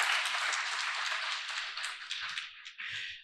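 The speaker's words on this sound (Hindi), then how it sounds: "अगर हाँ तो एक बार तालियां जरूर मारिएगा इस वक्त हॉल में" Audience applause fills a hall during a live interview event, a dense steady clapping that continues for about three seconds before thinning out near the end.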